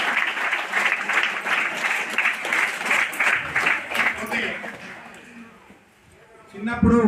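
An audience at a book launch meeting applauds warmly for several seconds in a thick, continuous wash of clapping, which thins out before a voice returns at the close.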